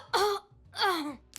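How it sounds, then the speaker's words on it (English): Tristana, a female League of Legends character, voices her death sound: two strained yells of pain, the second trailing into an exhale, with the start of a third sound cut off at the end. "Tristana yells in pain and exhales"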